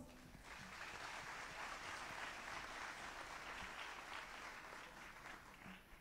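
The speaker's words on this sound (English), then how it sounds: "Please give them another applause." An audience at the opening of the Tunis Forum for Gender Equality gives steady, dense applause that fills the room evenly for several seconds, with no voices over it.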